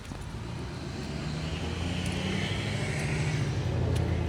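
A car drives past on a street in rainy weather near McCall, Idaho, a steady broadband road roar that swells gradually as it approaches, with no talk over it.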